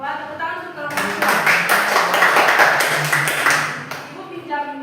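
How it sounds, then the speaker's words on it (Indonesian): Classroom applause for a student group, a burst of many hands clapping at moderate loudness for about three seconds, with children's voices and chatter around it. "Tepuk tangan untuk kelompok 2."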